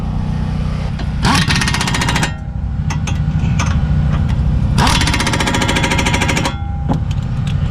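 A pneumatic impact tool drives the brake bolts on a Kia Forte in two loud rattling bursts, each about a second long, over a constant roar of shop noise, with no talk.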